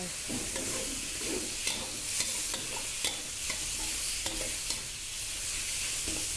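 Pork with soy sauce stir-fried in a pan, close up, with a steady sizzle and regular scraping clicks of the spatula against the pan, without any talking.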